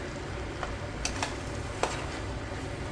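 Vegetables fry in olive oil and butter in a pot while a spoon stirs them, a steady sizzle under a few light scraping clinks, close and moderately loud.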